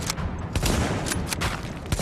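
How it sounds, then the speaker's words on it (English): Shotgun fire in The Division video game: loud, dense broadband blasts crowd the whole two seconds, overlapping one another with no gaps and no talk. "How on earth does a shotgun reach me from this distance?"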